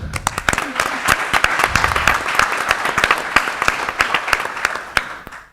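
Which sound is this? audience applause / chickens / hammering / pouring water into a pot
audience applause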